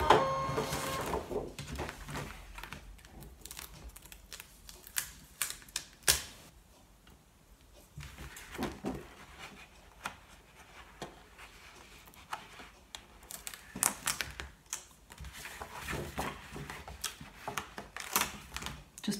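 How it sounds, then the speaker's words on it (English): A ScanNCut cutting machine unloads its mat with a series of faint mechanical whirs, clicks and ticks, irregular and close, with quiet gaps between the motor bursts. "I'm going to unload the mat."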